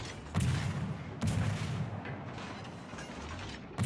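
Heavy naval guns boom repeatedly from a Fubuki destroyer in a warship battle game, with two strong salvos early and a sustained rumbling roar of gunfire and explosions filling the rest.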